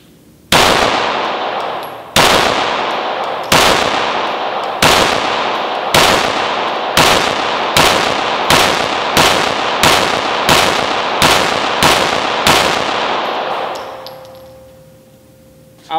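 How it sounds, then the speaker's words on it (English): Gunshots on a rifle range ring out against steel targets, about a dozen sharp reports with metallic clangs, spaced roughly a second or more apart and loud and close, each ringing out before the next, followed by a lingering tone. "So we're going to be shooting some steel."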